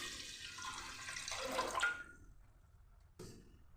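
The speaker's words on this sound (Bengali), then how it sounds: "আর পরিমাণ মতো জল দিয়ে দিচ্ছি" Water is poured into a pot of Gobindobhog rice and lentils with a bay leaf for khichuri, a soft splashing stream for about two seconds that fades, then a faint brief clink, quiet and close.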